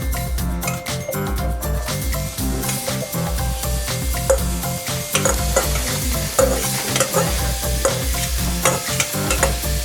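Onion and garlic frying in a pan while being stirred with a spatula: a continuous close sizzle with busy scraping and stirring strokes, plus light metallic tinkles throughout, no talk.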